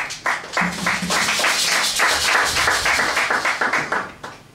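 A church congregation claps in unison after a scripture reading, a dense, steady round of applause that rises quickly and runs for several seconds before thinning out.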